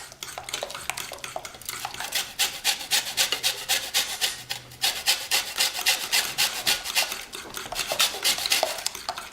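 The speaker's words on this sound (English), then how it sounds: "And then you grate some of this lemon." A lemon is rubbed against a grater in quick, rhythmic scraping strokes, close and crisp, continuing steadily with brief pauses.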